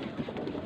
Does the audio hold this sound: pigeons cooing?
yes